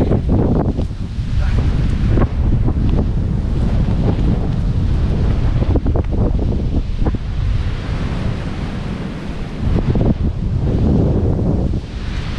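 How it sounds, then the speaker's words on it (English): Strong wind at a beach in Davao, Philippines, buffets the microphone in a constant roar, gusting louder and softer throughout, with a faint wash like surf beneath it. "It's pretty windy."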